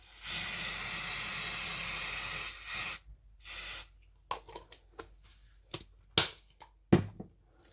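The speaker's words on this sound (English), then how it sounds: "So again, spray." A spray bottle gives a long continuous hiss for about three seconds, then a second short burst, followed by scattered clicks and taps.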